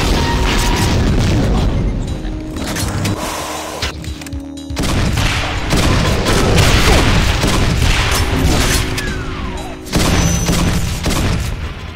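Rocket launcher explosions boom in the Ultimate DOOM video game during a chaotic co-op match, with dense, rapid blasts and gunfire filling the whole stretch and only brief dips between volleys.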